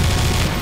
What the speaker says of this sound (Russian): Миниган.